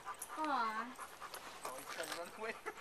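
A spotted dog panting quickly and rhythmically nearby, mixed with a voice speaking and a brief high whine.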